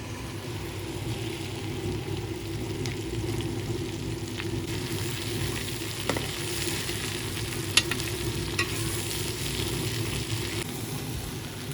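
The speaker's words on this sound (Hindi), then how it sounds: "सबसे पहले हमने फ्राई करना है भिंडियों को" Okra frying in ghee makes a soft, steady sizzle close by, with occasional light taps and scrapes as it is stirred in the pan.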